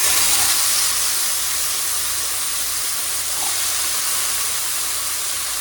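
Chopped chalta, or elephant apple, hitting hot mustard oil in a pan, giving a loud, continuous bright sizzle that hisses steadily throughout without pause.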